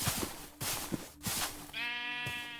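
Sheep in a farming video game bleat in several short repeated calls, the last a long wavering bleat, fairly close and clear with no talking.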